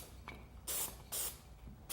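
Two short hissing bursts from a can of spray contact cement coating corner blocks, close by, with quiet pauses between them.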